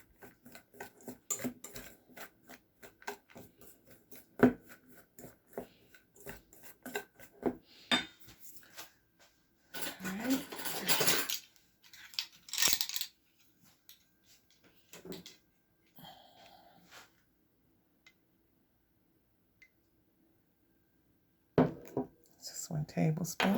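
A whisk rattles and scrapes through crumbly apple cake batter with milk in a bowl, giving quick rhythmic clicks in uneven bursts with pauses, some louder clattering, and a voice now and then.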